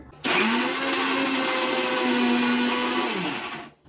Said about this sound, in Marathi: टोमॅटोची सुद्धा मी छान प्युरी बनवून घेतली आहे मिक्सरमधनं फिरवून घेतलं